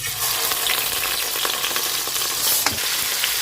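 Pigeons, with their livers and gizzards, frying in a hot pan: a steady, dense sizzle with crackling spits and a few louder pops, close and continuous, with no voices.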